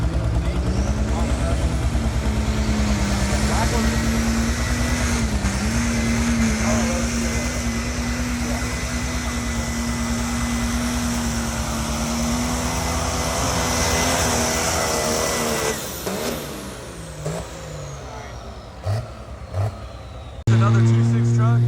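A 2.6 class pulling truck's engine drones loud and steady at an outlaw-class pull at a fairground in Anderson County, Tennessee, its pitch wavering slightly for about fifteen seconds before dropping off, followed by brief knocks and a renewed burst of engine noise.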